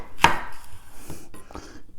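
A knife cutting a sliced onion in half on a board, a single sharp chop followed by a few soft scraping taps, close and without talking.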